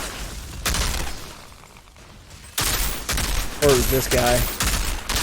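Rapid bursts of weapon fire from the looter-shooter Outriders crack out in separate volleys, loud and close, while someone talks briefly between the shots.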